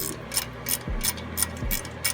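A ratchet wrench with a 15mm socket on a 2003 Chevy Trailblazer clicks in quick bursts of pawl ticks, close and fairly quiet, with brief swinging strokes between.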